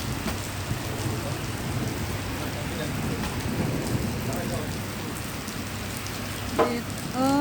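Heavy rain pours down in Abu Dhabi in a dense, steady roar, with a faint rumble and a brief sharper sound near the end.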